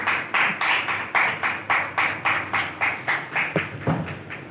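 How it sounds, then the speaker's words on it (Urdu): A church congregation clapping loudly during a worship meeting, with many hands striking in a steady, even rhythm of about three beats per second. The applause is dense and sustained and stays unbroken throughout. "آئیے زوردار تالیاں خدا ان کے جلال کے لیے"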